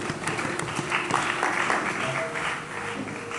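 A church congregation applauding together, a steady spread of many hands clapping at moderate distance, continuous for a few seconds with faint voices mixed in.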